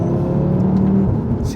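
A 2006 Audi RS4 B7 or 2018 Audi RS3 8V engine hums with a low, steady drone at close range, holding an even pitch while a voice talks over it.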